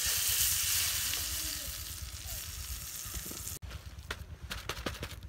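Butter sizzling in a pan set over a wood-fired chulha outdoors in a forest, a steady bright frying hiss for a few seconds, then a brief cut and scattered sharper crackles and pops.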